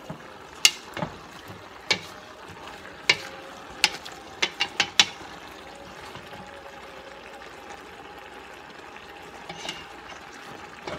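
Sausage stirred in a pan for spaghetti: a spoon gives a burst of sharp scrapes and clicks in the first five seconds, then fades to a soft, steady cooking hiss with an occasional faint knock.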